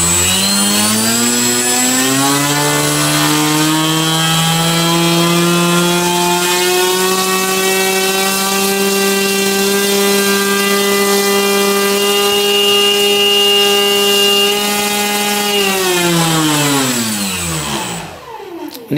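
An AXI 2814/12 Long V2 electric motor on a thrust test stand, run at full throttle to about 1,100 grams of thrust, holds a loud, steady, high whine with strong harmonics for about fifteen seconds, then winds down near the end.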